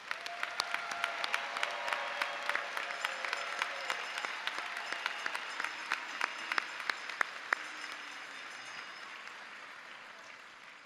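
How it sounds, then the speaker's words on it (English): A graduation ceremony audience for Purdue Global and Concord Law graduates bursts into sustained applause, a dense steady wash of clapping with sharp individual claps standing out, lasting about eleven seconds without speech. "Let's give a round of applause for all of our graduates."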